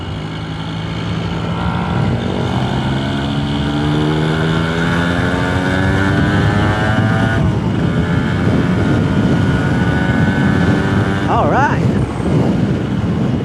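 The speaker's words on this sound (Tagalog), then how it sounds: "Malakas pala yung hangin" Loud wind buffets the microphone continuously while a vehicle engine hums and rises in pitch, as if riding at speed.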